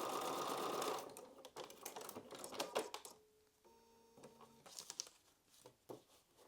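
A sewing machine stitches pieced quilt block fabric for a butterfly foundation paper pieced block, with a loud run at the start followed by short bursts, pauses and a few tonal electronic beeps, no voices.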